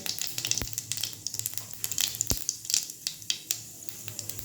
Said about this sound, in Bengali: তেল গরম হয়ে গেছে। আমি জিরে দিয়ে দিয়েছি, সাদা জিরে।